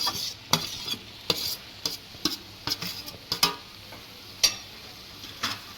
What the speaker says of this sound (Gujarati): તો હવે આપણે એમાં બટેટા જે છે ઝીણા ઝીણા સુધારેલા એ આમાં એડ કરશું